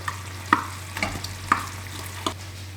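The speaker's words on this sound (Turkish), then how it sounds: "tereyağlı suyunu iyice çeksin diye üzerine soğanlarımı döküyorum" Chopped onions dropping into a hot pan onto meat frying in buttery juices, with a few distinct crackling bursts spaced about half a second apart over a steady frying sizzle and low hum.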